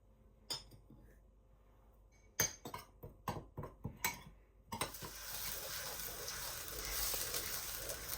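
Red onions dropped into hot pure mustard oil for an Eid meal: a few utensil clinks and stirring knocks, then a sudden, steady, bright sizzle that grows slightly louder and fills the rest of the clip.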